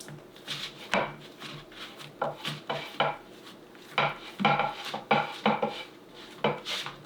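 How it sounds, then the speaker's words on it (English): Metal pizza pan being turned round and round on a counter while dough is pressed out, giving a series of close, irregular metallic clinks and scrapes. "Keeping the pan spinning will help keep it in a circle for you as well."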